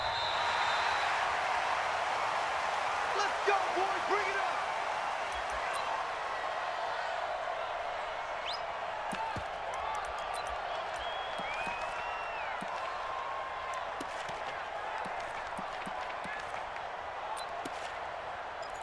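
In Madden NFL 20, a stadium crowd roars steadily as the Cleveland Browns and Pittsburgh Steelers line up, a broad continuous wash of cheering under a commentator's voice.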